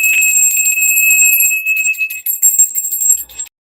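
A tarot reading bell is rung once and left to ring alone, giving a bright, sustained metallic tone that holds steady for about three seconds before cutting off.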